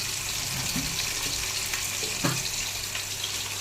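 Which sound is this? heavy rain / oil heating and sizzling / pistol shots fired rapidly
oil heating and sizzling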